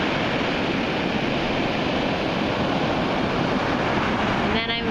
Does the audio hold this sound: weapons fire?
no